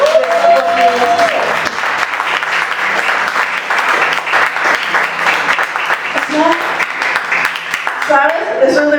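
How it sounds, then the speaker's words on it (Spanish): A church congregation breaks into sustained, loud applause that fills the room, with voices heard in the background alongside the clapping. "yo quiero que le den un aplauso al Señor por la vida"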